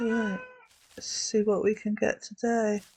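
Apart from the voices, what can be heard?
cat meowing in the background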